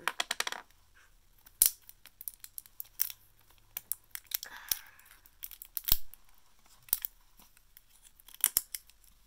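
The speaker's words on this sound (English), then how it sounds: "I don't know why this stupid plastic isn't opening" Plastic packaging on a slime kit being worked open, with scattered sharp crinkles, snaps and tearing bursts separated by quiet gaps, close and fairly soft.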